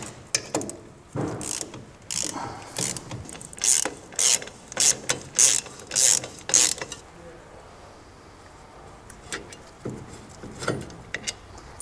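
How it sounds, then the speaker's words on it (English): Ratchet wrench loosening the two 5/8-inch imperial brake caliper bolts on a Triumph Spitfire's front brake, a loud close run of rapid clicking bursts in steady strokes, then a quieter stretch with a few scattered clicks and knocks. "We need to remove these two caliper bolts."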